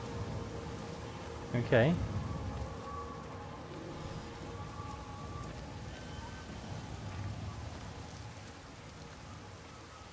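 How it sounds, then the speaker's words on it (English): Steady rain in the video game Everybody's Gone to the Rapture pours down with a constant hiss, and a brief spoken word rises over it early on. "Raining harder now."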